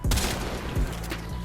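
Rubico Prime sniper rifle firing in the Warframe video game, loud sharp shots with booming low impacts, one near the start and another around the middle, over constant game noise.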